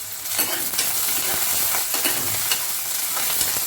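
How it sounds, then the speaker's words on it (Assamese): Onions and green chillies sizzle steadily in hot oil in a pan, a dense, close frying hiss with light stirring scrapes throughout. "এইখিনি ভালকৈ ভাজি ল'ম অলপ ৰঙা পৰাকৈ"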